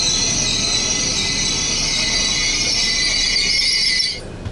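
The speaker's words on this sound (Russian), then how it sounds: "А вот и мой поезд. Скорый поезд, дом умчится." A train arriving at a station in Germany, heard as a loud, steady rumble with a high, sustained wheel squeal as it slows, before the noise drops away at the end, with no talking.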